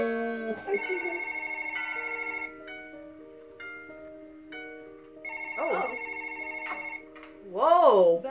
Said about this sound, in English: So let's go answer the phone.